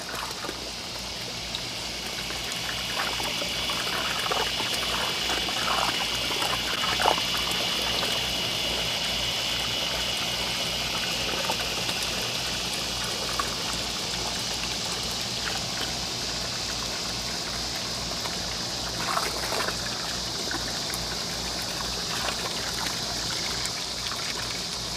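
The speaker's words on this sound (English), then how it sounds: "in between me pulling out the water hose, that water is draining back through" Water from a garden hose draining down through a terracotta flowerpot, a steady close trickle and splash running continuously with a few louder gurgles.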